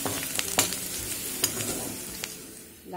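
Peas for a matar curry frying and being stirred in a pan, with steady sizzling broken by sharp spoon scrapes and clicks, close and fairly quiet, no talking.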